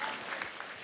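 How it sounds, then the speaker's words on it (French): A short, dense burst of audience applause for a speaker's remark, steady clapping from a crowd heard at moderate level with no other sounds standing out. "L'intervention est applaudie."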